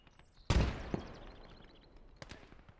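A grenade blast in the Gates of Hell war game lands as one sharp, heavy boom that decays over a second or two, followed by a couple of fainter distant cracks.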